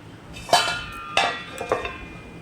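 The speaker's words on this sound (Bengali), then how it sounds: "এরপর আমি একটা থালা দিয়ে ওপরে ঢেকে দেব" A metal plate set over a cooking pot of fish curry as a lid, giving a few sharp metallic clinks and a scrape, three separate contacts spaced across a couple of seconds, close and clear with no talk.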